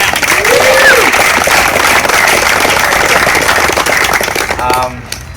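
Audience applause at a disc golf tournament, a dense, steady outdoor clapping that holds loud for most of the span and fades near the end, with crowd voices mixed in.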